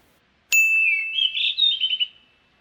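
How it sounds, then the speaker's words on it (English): A single bright bird call rings out after a brief silence, a sustained whistle-like tone breaking into several quick warbling chirps, clear and close. "Can you hear the bird?"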